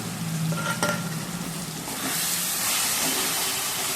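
Onion and tomato fry in a pan for mutton curry with Kashmiri chili powder, a steady close sizzle and hiss that grows louder and fuller midway as the spice goes in, with a brief stir clatter early on.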